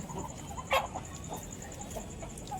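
Hens cluck softly near egg-laying boxes and trays in a poultry shed, scattered short calls with one louder cluck, over a steady background hum.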